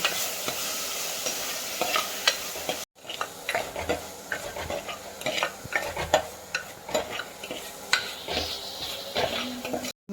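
Onions frying in a pan for a Kerala fish curry, an ongoing sizzle with repeated scraping stirs, one short cut-out near the start, and no voices.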